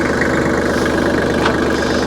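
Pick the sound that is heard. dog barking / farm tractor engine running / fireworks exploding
farm tractor engine running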